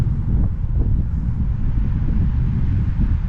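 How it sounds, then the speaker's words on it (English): Steady, heavy wind buffeting the microphone while riding a fast e-scooter, a constant low roar throughout with no pauses. "Woo, it's windy out here."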